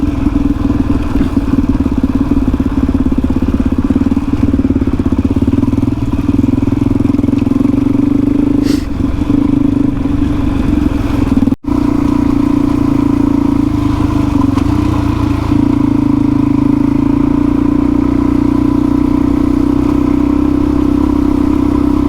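Dual-sport motorcycles, a DRZ400E and a Tenere 700, ride off-road in the Flinders Ranges, Australia, with a loud, steady engine drone close by throughout, brief dips and rattles as the bikes work over rough ground.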